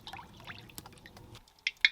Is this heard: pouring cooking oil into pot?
yes